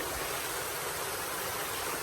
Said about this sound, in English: Oh man, I gotta do a creek crossing now.